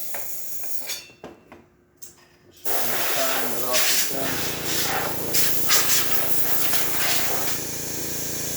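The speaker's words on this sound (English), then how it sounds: "Let's test the steam." A Breville espresso machine's steam wand, freshly tuned up, opens into a loud, steady broadband hiss that runs for several seconds after a few quieter clicks and handling sounds.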